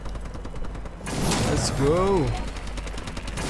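Gunfire in a Call of Duty Advanced Warfare Domination match, with rapid bursts of shots and weapon mechanisms up close, and a player briefly speaking over them.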